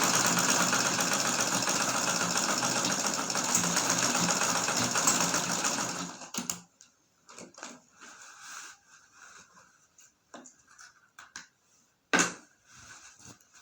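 Sewing machine stitching fabric for an iro and buba outfit, running steadily and loudly for about six seconds, then stopping, followed by soft handling and fabric rustling.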